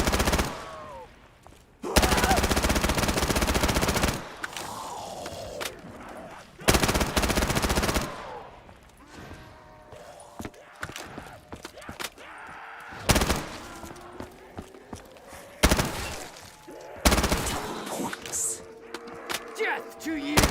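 Bursts of automatic gunfire from Call of Duty custom Zombies, several loud sustained volleys of a couple of seconds each separated by quieter game sounds and effects.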